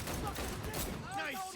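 Gunfire in the video game Cyberpunk 2077, a dense burst of shots and impacts packed into a loud, continuous battle mix with game voices shouting over it.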